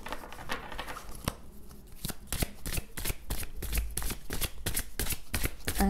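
Tarot cards are shuffled by hand in a steady run of crisp riffling clicks and snaps, close and fairly quiet, with no talking.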